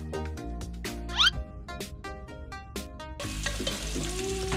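Tilapia frying in hot olive oil, a steady close sizzle that swells and intensifies in its last second, with faint clinks and scraping of a utensil on the pan.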